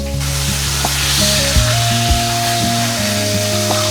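Rupchanda (pomfret) fish frying in a pan on medium heat gives a steady close sizzle under a constant electrical whine, with a few faint clicks and no talking.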